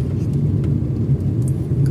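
A car creeping slowly through a crowded market street in third gear, its steady low engine rumble close and continuous with no talk.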